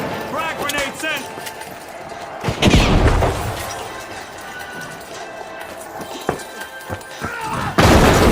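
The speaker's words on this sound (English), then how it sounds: "Frag grenade sent." A frag grenade goes off in the shooter game The Finals, one heavy boom amid footsteps, gunfire and an announcer-style voice, followed by further thuds and another burst of impact near the end.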